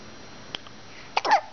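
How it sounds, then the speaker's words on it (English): A baby twin hiccuping, one small soft hiccup followed by a louder hiccup with a brief fussy vocal sound, close and otherwise quiet. "Those darn hiccups."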